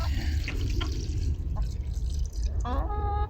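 Water running and dripping from an animal water container just opened in a garden, a close trickle with drips over a low background, and a voice briefly at the end.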